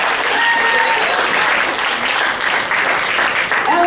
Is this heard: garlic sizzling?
no